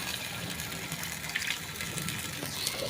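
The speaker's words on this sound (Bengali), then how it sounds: "সাইড দিয়ে একটু হালকা করে জল দিয়ে দিলাম আমি, অল্প একদম একটুখানি।" Water is poured in a thin stream down the side of a pan of cooking mutton, a faint steady gush with soft sizzling underneath, no voices.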